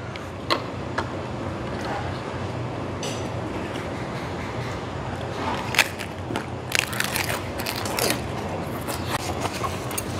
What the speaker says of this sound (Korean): 오늘 가메기철이니까 양부지게 쌈사서 먹겠습니다